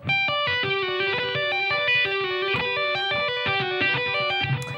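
A heavily distorted electric guitar plays a continuous metal tapping lick, quick hammer-ons and tapped notes repeating in an even, rapid cycle that climbs and falls, loud and up front throughout.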